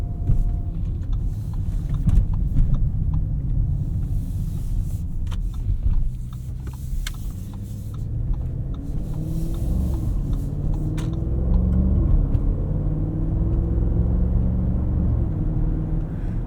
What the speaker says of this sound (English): Love the way this 4-liter twin-turbo V8 sounds. It's muted, it's subtle, but it really makes a good noise.